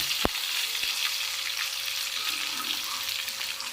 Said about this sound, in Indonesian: Oke, kita goreng ikannya guys.